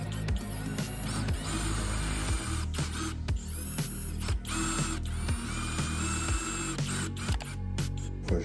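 Screwdriver driving two screws during a shower renovation, a dense, continuous ratcheting click close by, steady and mechanical with no talking.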